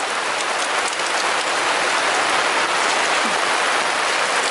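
Heavy storm rain pounds a surface close by in a dense, steady roar that never lets up, with no voices over it.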